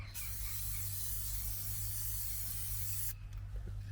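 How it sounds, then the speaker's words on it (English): Base coat paint sprayed onto a car body: a steady, close hiss of the spray gun running for about three seconds before cutting off, over a low background hum. "So 2 coats of base coat were put on, 15 minutes apart"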